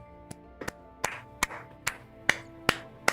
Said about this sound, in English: Give it up for Big Larry.